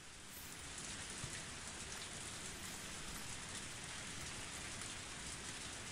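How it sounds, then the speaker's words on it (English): Heavy pouring rain hisses steadily in Higurashi When They Cry, a dense unbroken wash of falling water at moderate volume with no voices. "Only the sound of the pouring rain filled up the silence."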